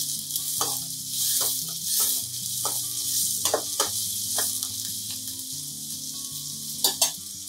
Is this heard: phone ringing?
no